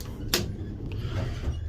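A Westinghouse hydraulic elevator's door closes at an office building on Broadhollow Road in Melville, New York. It gives one short, sharp thud near the start, followed by a steady low mechanical hum with no voices.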